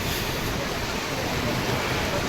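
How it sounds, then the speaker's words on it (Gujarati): Floodwater rushes from the opened gates of Mukteshwar Dam and pours across a road, making a steady, dense roar of moving water that continues without a break. "આ બધું રોડ ઉપર થઈને પાણી જાય, આ ડેમના દરવાજા ખોલી લીધા એટલા માટે"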